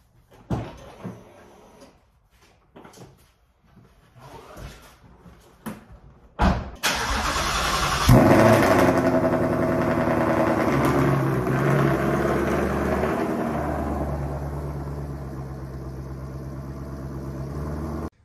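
A Ford Mustang S550 fires up in a garage with a loud engine start after several faint clunks, then settles into a steady, throaty idle and rumble as it pulls out.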